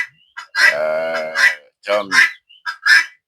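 Guinea fowl on a farm call out in loud, harsh, repeated honking bursts, close by, with a person briefly speaking between the cries.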